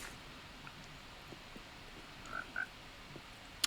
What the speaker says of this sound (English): So I think it's about time we actually get the frogs in there now